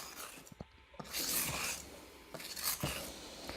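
Cake batter being mixed by hand in a bowl, with intermittent scraping and clinking strokes of a utensil against the bowl, close and fairly quiet, bursts of brighter friction between short pauses.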